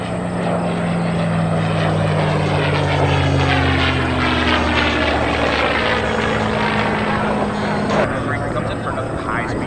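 A P-51 Mustang and an F-16 make a high-speed pass at the Cleveland Airshow, a loud sustained engine roar that shifts steadily downward in pitch as they go by, with a commentator talking over it.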